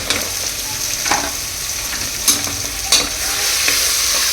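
Vegetables sizzle in a pan with garam masala while being cooked for Mysore vegetable palav. A steady hiss runs throughout, broken by a few sharp scrapes of a spoon stirring. No one speaks.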